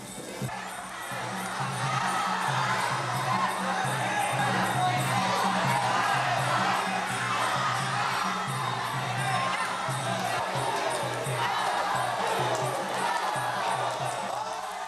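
Spectators at a Thai boxing match cheer and shout in a steady, loud crowd roar that swells and holds for the whole stretch, with excited whoops rising from the mass of voices.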